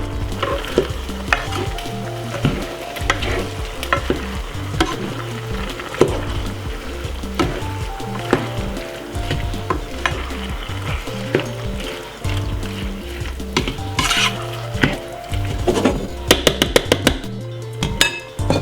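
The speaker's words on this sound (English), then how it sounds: "give it a stir." Chicken chow mein with sweet chili sauce is stirred as it fries in a pan, a close continuous sizzle with repeated clacking of a utensil against the pan, growing busier toward the end, no voices.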